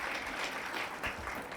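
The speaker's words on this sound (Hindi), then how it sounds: "जोरदार तालियां हिंदुस्तान के लिए, अपने मुल्क के अजीज के लिए, वो सारे साइंटिस्टों के लिए।" Audience applause at an inspiring speech, soft and distant, a short burst of scattered hand claps with a few louder claps.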